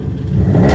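A Subaru engine revving up from a lower idle, the mid-pitched engine note rising and growing louder over under a second, close and alone.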